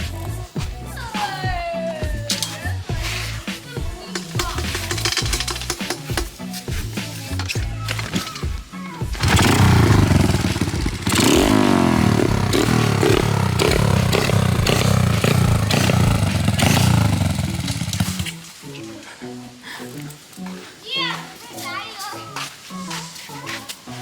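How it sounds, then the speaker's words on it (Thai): Manual-clutch motorcycle engine revving in Thailand, with irregular popping idle, a long sustained rev that rises and falls, then a drop back to putting idle, while people talk nearby. "บิดคันเร่งนึงไม่ต้องไปเบิ้ลขนาดนั้นหรอก"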